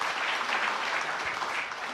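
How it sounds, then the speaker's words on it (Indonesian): A church congregation applauds during a sermon, a steady dense wash of clapping at moderate level that holds evenly for the whole stretch with no voices on top. "Yang setuju beri tepuk tangan yang meriah bagi Tuhan Yesus."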